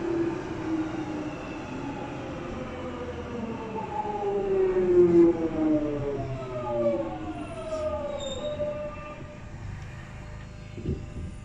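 London Underground tube train running, a steady rumbling roar with rising and falling whining motor tones sweeping upward, fairly close and continuous, with a brief thump near the end and no talk.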